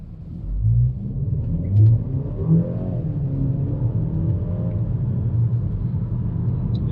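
A turbocharged 2023 BMW X1 engine rumbles and builds as it accelerates hard from 0 to 60, a low steady roar rising in pitch, close and fairly loud.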